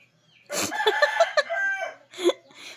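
Several chickens cluck and squawk close by in quick, overlapping bursts, then a brief pause before one more loud cackle.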